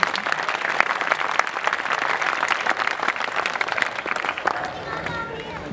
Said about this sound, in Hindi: जितने लोग यहाँ बैठे हैं जोरदार तालियां बजा दीजिए।